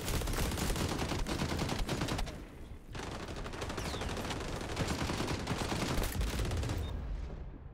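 Sustained automatic gunfire from the online shooter XDefiant, loud dense bursts of rapid shots filling the whole stretch, with a brief lull partway through before the firing resumes.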